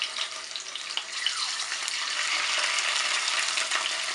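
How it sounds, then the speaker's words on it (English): Plain tofu frying in hot oil gives a dense, steady sizzle and crackle, close and fairly loud, with no voices over it. "So my tofu is frying."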